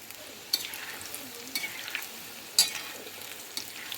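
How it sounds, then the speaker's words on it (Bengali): Soybean chunks frying in oil in a wok: a soft continuous sizzle with a few distinct scraping stir strokes at roughly one-second intervals, close by and without talk. "এ দেখো আমার সোয়াবিনগুলো ভাজা হয়ে গেছে।"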